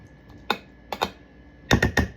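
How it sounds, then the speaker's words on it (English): Sticky, squelching pulls of thick cheesy macaroni and cheese being stirred, in short bursts: one, then a pair, then a quick cluster of three, close and fairly soft. "You hear that mac sound, like that."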